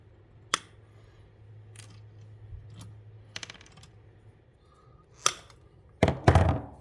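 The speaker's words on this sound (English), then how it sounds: "I'll go ahead and cut this wire off" Wire snipped with cutters during car upgrade work on a Honda Prelude, a few sharp clicks and snaps close up in a quiet space, followed by louder rustling handling noise at the end.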